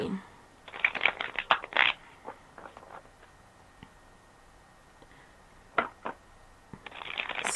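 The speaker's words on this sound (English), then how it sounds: "I'm shuffling cards and getting ready for the next one" Tarot cards shuffled by hand in quick riffling bursts, loud and close, separated by quieter taps and rustles, with another burst of shuffling at the end.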